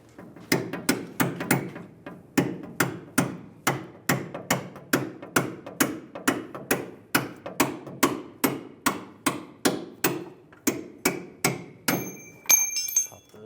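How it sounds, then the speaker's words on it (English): A hammer striking a punch to drive out a leaf spring bolt on a 2007-2013 Chevrolet Silverado 1500, a long run of loud, evenly spaced metallic blows, each ringing briefly, with no talk. "Just punch it out."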